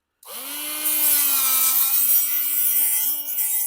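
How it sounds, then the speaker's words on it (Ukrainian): Angle grinder cutting permalloy transformer iron, starting abruptly and then holding a loud, steady high-pitched whine with a bright grinding hiss, close by and alone. "Беремо болгарку."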